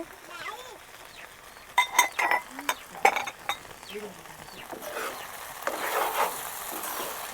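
Garlic fries softly in oil for an okra stir-fry, sizzling while a utensil clinks and scrapes against the pan a few times; a voice speaks intermittently.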